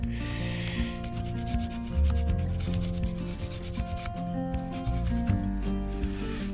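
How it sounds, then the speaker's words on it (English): A log splitter engine part is scrubbed to strip old varnish, producing continuous close, gritty rubbing strokes in an irregular rhythm with no talking. "it just does a really, really good job of cleaning all that old varnish off of there"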